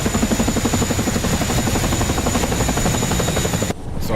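Helicopters roar directly overhead in the DCS World flight game, loud rhythmic rotor blade thumping over a high turbine whine, then the sound abruptly drops away near the end.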